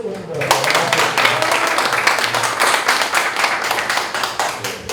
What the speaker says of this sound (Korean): 박재만 공동대표 너무 오래 기다리셨으니까 박수를 2배로 칩니다.